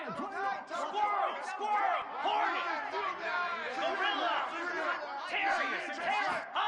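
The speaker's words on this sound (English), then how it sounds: "Crowd trying to make a difference here on 4th down." A loud football stadium crowd roars and yells during a 4th-down play in an Ohio State versus Texas game, a dense wash of cheering and shouting voices throughout.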